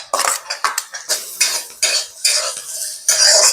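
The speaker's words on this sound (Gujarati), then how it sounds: "એમાં લસણ કાંદા થોડી વાર સંતળાવા દઈએ" Garlic and onion sauté in a hot pan while a utensil scrapes and clatters against the metal in quick repeated strokes, loud and close, with a light sizzle beneath.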